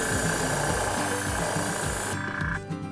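An airbrush sprays transparent white pearl paint onto a jerkbait lure with a steady close hiss that cuts off near the end, with low background rumble.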